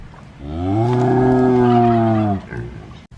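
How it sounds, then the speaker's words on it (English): A big cow at a farm animal sanctuary gives one long, loud, close moo lasting nearly two seconds, rich and droning with a steady pitch, followed by a short breathy snort and quiet rustling. "Oh, big cow."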